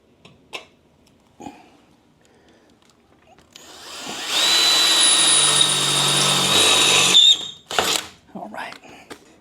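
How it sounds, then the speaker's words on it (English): A power drill whines steadily as a small bit bores into a Jeep during a Blue Ox tow bar install, a loud sustained burst of about three seconds framed by quieter clicks and handling noises. "what I'm doing is just start a little smaller drill bit and then just increase it"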